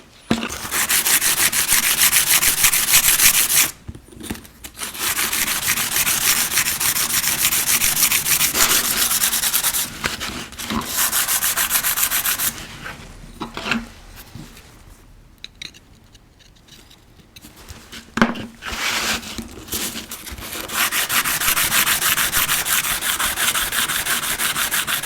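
A woodcarver's slipstone is rubbed on sandpaper in long, continuous gritty rasping strokes. The sound is close and loud, broken by a few short pauses, with no speech.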